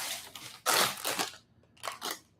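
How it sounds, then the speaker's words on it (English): A plastic bag of competition Baozhong tea crinkles and crunches close up in three bursts, the middle one loudest, with short quiet gaps between them. "the bag sounds like this"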